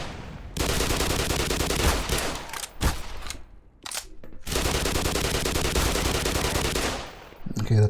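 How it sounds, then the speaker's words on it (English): Heavy machine gun fire from the game Black Mesa: long sustained bursts of rapid, loud shots, broken by a short pause with a few single cracks before the firing resumes. "Now this heavy machine gun is actually rather inaccurate at long range"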